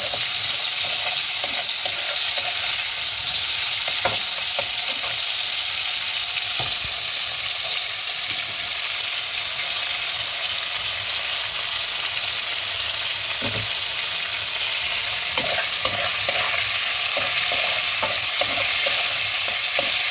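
Prawns fry in a pan with a continuous loud sizzling hiss for about twenty seconds, broken by occasional clicks and scrapes from stirring.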